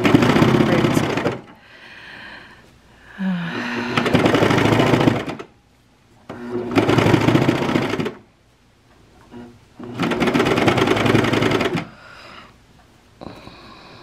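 A serger-style sewing machine with a cutting knife, long unserviced and due a knife change, runs in loud bursts of a few seconds each, stopping and starting repeatedly, with short pauses of quieter handling between runs.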